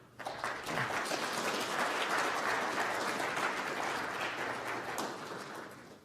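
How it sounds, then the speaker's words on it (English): An audience at a law panel discussion breaks into sustained applause, filling the room steadily for several seconds at a moderate distance before tapering off. "now's the time to let out all that bottled applause"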